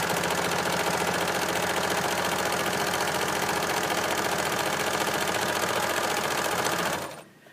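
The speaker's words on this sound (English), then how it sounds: "I'm making sure that my garment is flat as I sew." A sewing machine stitches a garment in a steady, rapid mechanical run, loud and close, holding for about seven seconds before stopping abruptly.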